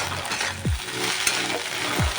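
Egg and potato frying in a pan, a steady close sizzle with a couple of scraping spatula strokes and a light metallic tap.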